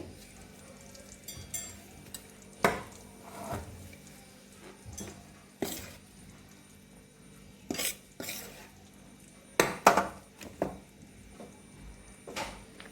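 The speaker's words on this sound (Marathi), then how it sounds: "आता आपण त्यामध्ये हा सगळा मैदा टाकून घेऊया साधारण तीन वाटी मैदा घेतलेला आहे" Three bowls of maida flour being tipped into a pan for barfi, heard as scattered sharp clinks and scrapes of utensil against metal, with soft rustling between the louder knocks, close and irregular.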